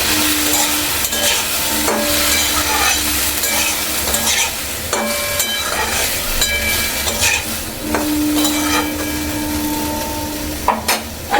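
Tomato chutney with salt and turmeric is stirred in a hot pan, giving a steady, close sizzle with a continuous scraping of the spoon and occasional sharp clanks against the metal.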